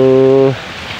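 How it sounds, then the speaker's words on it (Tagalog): Steady rain falls in a rural yard during a long wet spell with a flooding river nearby. A sustained tonal hum fills the first half, then only an even, soft patter of rain remains. "ayaw pa rin tumigil nung pag-ulan dito sa lugar namin."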